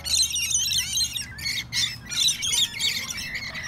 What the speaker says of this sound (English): So a few parrots just going at it.